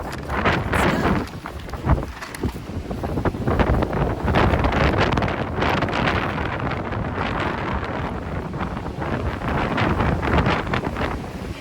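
Wind gusts through the woods and buffets the microphone with loud, continuous rumbling and roaring, rising and falling with no voices.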